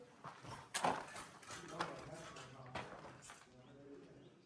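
A pigeon coos softly inside an abandoned prison, its low calls faint amid hollow room echo, scattered knocks and quiet shuffling, with a voice occasionally murmuring nearby.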